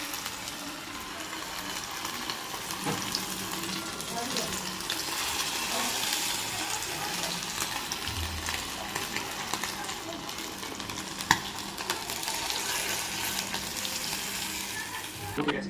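Amudi fish frying in a pan over low heat, a steady broadband sizzle and crackle running throughout with occasional stirring clinks and a faint background voice.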